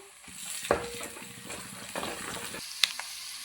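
Spices, ground coriander-cumin-fenugreek, garlic paste and curry leaves frying in hot oil as a tempering for fish curry, giving a soft steady sizzle with a few sharp stirring clinks of a utensil against the pan, no talking.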